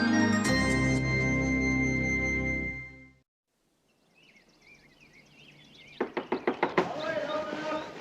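Rapid knocks on a door come in a quick burst of about six sharp raps, loud and close, following a stretch of music and quiet, with birdsong faint in the background.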